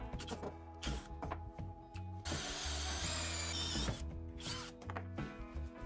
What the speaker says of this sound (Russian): подобрал коронку подходящего диаметра и высверливаю отверстие в двух заглушках